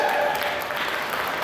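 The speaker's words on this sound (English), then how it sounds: "let's give Al a round of applause here." Audience at an anime convention game show applauding: a brief burst of steady, dense clapping from a roomful of people, fairly close and uninterrupted.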